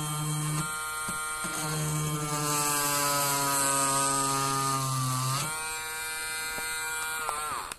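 An electric drill bores into material at low speed, a steady whining motor hum whose pitch dips and shifts as the bit is pushed in, then rises briefly near the end, close and loud with no talking.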